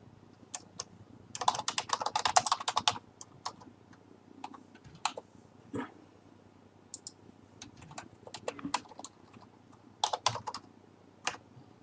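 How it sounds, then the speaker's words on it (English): Fingers type on a computer keyboard with quick bursts of clicking keystrokes, the busiest near the start, then scattered single taps and short runs between pauses, all fairly quiet and close. "Hold on, I'm just typing some out to 2 players."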